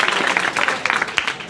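Students at a coaching class in Jamui applaud together, a moderate burst of scattered clapping from a nearby indoor audience with uneven bursts across a second and a half.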